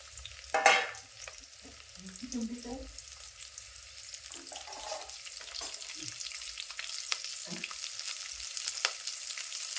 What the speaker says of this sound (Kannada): ಇವು ಮೂರು ಫ್ರೈ ಆಗಬೇಕು